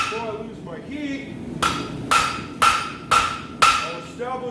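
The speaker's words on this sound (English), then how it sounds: "I'll take a smaller rounding hammer to the bick." A smaller rounding hammer strikes hot metal on the bick of an anvil at a blacksmith forge, five evenly spaced ringing blows, close and loud, with a quiet voice speaking just before them.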